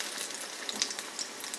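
Banana fritters sizzle and crackle steadily in hot oil, a close, dense hiss with small pops scattered throughout and no voices.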